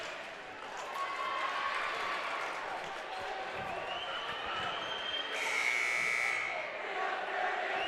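Crowd noise at a high school boys basketball game, Ballard versus Gilbert, a steady roar of voices and cheering filling the gym, with a brief buzzer-like tone partway through.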